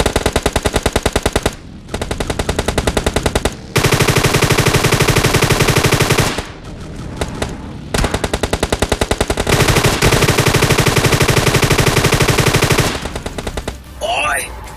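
Rapid automatic gunfire in the mobile battle royale game PUBG Lite, loud sustained bursts with short pauses between them, continuing almost throughout.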